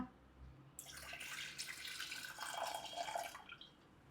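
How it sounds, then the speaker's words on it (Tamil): Tamarind water being poured into a hot pan while making jeera rasam, a broad sustained watery pour with splashing and sizzle lasting about three seconds, close and fairly loud, no talking. "புளி ஜலத்தை விட்டுரு"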